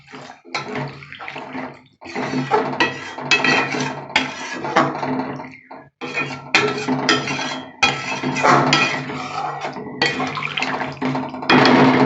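Hot water poured from a mug into a pot of potato-paneer curry, a loud close splashing pour in several bursts with brief pauses and occasional clinks of metal.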